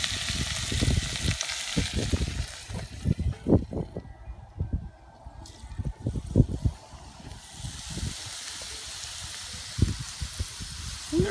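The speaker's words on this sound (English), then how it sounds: "These beans are like sizzling like crazy." Green beans sizzling on a grill, a steady crackling hiss with irregular pops and spits throughout, fairly close and continuous.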